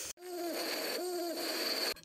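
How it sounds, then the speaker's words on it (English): Two drawn-out owl hoots, each a steady low tone that bends at the start, come one after the other against quiet night ambience. There is no talking. "This is an owl. This is owl. So they speak like."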